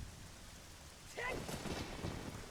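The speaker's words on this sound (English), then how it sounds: "Oh, it's raining!" Rain falling in the video game The Legend of Zelda: Ocarina of Time: a soft, faint steady hiss that swells suddenly partway through into a louder downpour with a rumble of thunder.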